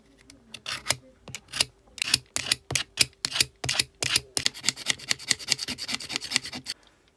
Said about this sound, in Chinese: 但是话这6毫米的铜管有点粗，穿不过去，所以说我们要给这边给它打磨一下